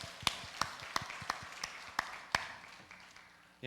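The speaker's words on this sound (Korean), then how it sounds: "우리 박수로 축하하겠습니다" A few scattered handclaps, about seven sharp separate claps, ring out fairly faint at a Korean church Sunday service, congratulating a family on a seminary graduation, before fading to quiet room tone.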